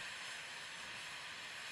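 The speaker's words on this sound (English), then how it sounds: "high-temperature water and steam that shoots up towards the Earth's surface with high pressure" Geothermal steam rushing up under high pressure from a deep borehole in Iceland, a steady, loud, broadband hiss that holds constant without a break.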